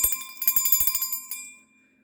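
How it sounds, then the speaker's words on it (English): A small bell rings rapidly about a dozen times in a quick metallic trill, close and bright, then the last ring decays into silence. "Ring in the bell."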